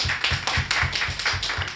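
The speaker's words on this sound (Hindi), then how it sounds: "कविता शुरू कर रहा हूँ, एक बार तालियां बजाकर मन दें।" Audience at a Hindi kavi sammelan poetry gathering claps in steady rhythmic unison, sharp bursts repeating about four times a second, loud and close with no talk over it.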